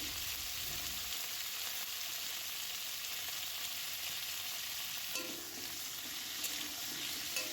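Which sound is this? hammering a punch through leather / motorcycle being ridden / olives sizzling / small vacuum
olives sizzling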